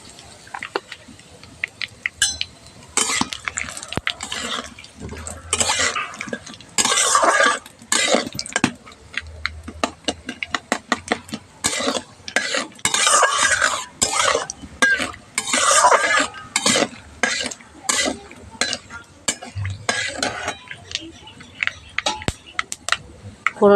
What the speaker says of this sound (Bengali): আমি এখানে যে ফোড়নটা রেখেছিলাম সেই ফোড়নটা এবার দিয়ে দেবো সব একসঙ্গে। আর দেবো অল্প একটু হিং।